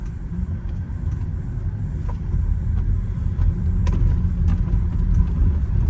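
A 2008 Mercedes SL550 on coilovers rolls over neighborhood bumps, giving a steady low road rumble and engine drone with a few brief thumps and rattles, and no voices.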